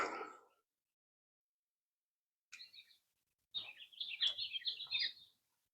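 Songbirds chirp and warble along tree- and flower-lined paths in a Kentucky state park, a brief call early on, then a busy run of bright, quick trills near the end, with no talking.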